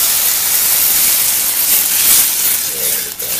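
Pomi tomato passata poured into a hot pan of sautéed onion, garlic and tomato paste for beef lasagna, a loud, steady hissing sizzle that swells and dips slightly, with no talk.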